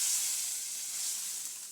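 Hot tempering poured into brinjal theeyal sizzles as a soft, steady hiss that fades slightly over its short length, with no voices.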